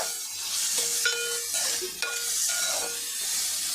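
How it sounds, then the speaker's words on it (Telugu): Long-cut slices of two medium onions fry in a pan for an egg masala curry, a steady close sizzle with a few stirring scrapes and utensil clinks, no voices. "2 ఉల్లిపాయలు వేసుకొని పొడవుగా కట్ చేసుకొని దోరగా వేయించుకోవాలండి"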